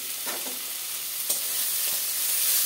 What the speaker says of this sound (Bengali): আলতো আলতো করে নাড়বো, নাহলে বেগুনটা গলে যাবে।